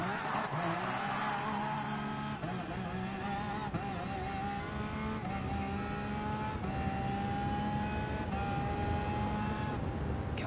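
A race car's engine revs hard and high during a quarter-mile drag race in GT Sport, with repeated upshifts giving rising and falling whines in a continuous loud run and no talk.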